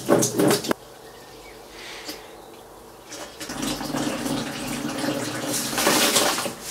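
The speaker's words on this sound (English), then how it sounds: "So let's start by pouring in everything that is already dissolved." Dissolved chemical solution for iron oxide synthesis is poured into a large container of about 50 liters, making a splashing, gushing rush of liquid that starts loud, pauses briefly, then resumes steadily and builds toward the end.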